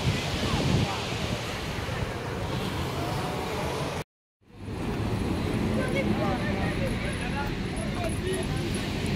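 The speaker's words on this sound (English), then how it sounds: "Just got to the beach." Surf breaking on the beach at Nice, France, a steady broadband wash of waves and wind buffeting the microphone, with a brief dropout midway and voices talking over it.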